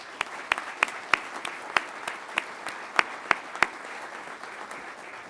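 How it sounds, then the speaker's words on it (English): At a pilot training graduation ceremony, scattered hand claps ring out sparsely in a large space, a thin, faint round of applause with distinct individual claps rather than a full ovation. "Please join me in a round of applause for IPs."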